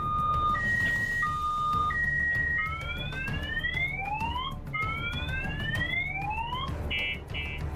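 Several car alarms blare at once after a missile strike on a residential area of Merefa, Ukraine: looping tones and repeated rising whoops overlapping steadily over a low rumble for the whole stretch.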